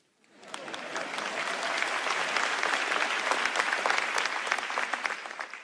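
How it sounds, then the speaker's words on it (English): A keynote audience breaks into applause, swelling quickly into dense, steady clapping from a large crowd that holds for several seconds. "It's okay to clap."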